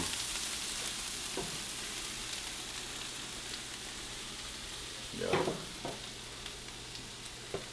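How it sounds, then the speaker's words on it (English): Onion and pepper sautéing in oil for a venison breakfast give a soft, steady sizzle, with a few scraping stirs standing out near the end. "Kind of the same thing with your onion pepper. We're just sauteing them. Simple saute."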